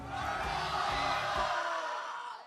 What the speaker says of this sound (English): I need you to yell at the top of your lungs the color purple when I count to 3